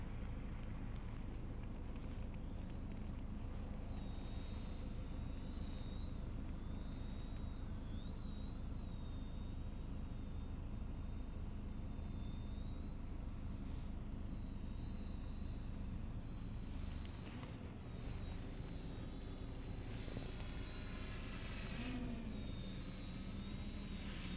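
A drone flying a waypoint mission gives off a continuous, fairly quiet buzzing whine of its rotors, steady in level with slight pitch shifts, and no one speaks.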